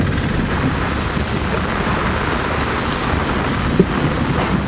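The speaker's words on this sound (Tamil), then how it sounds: "மாலை மாவட்டத்தின் பல்வேறு பகுதிகளில் இடி மின்னலுடன் கனமழை பெய்தது" Heavy rain pours down steadily in Cuddalore during a thunderstorm, a dense, loud wash of noise with a faint low rumble and a brief sharper crack near the end.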